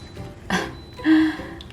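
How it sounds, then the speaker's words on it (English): An Instant Pot gives a short electronic beep once when finished, moderately loud, against a quiet room background with faint noise. "my Instant Pot is finished. So sorry about that beeping."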